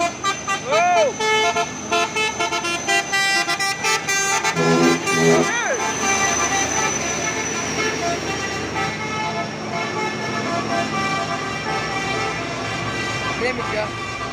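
A Fuso intercooler truck labors up the Bukit Kodok hill in daytime, its engine drone near and loud, with horn toots and other passing vehicles and voices talking over it.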